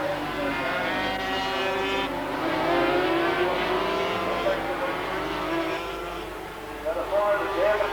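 Racing motorcycle engines whine and rise in pitch as the bikes sweep aggressively through a corner, with a commentator talking steadily over the sustained engine noise.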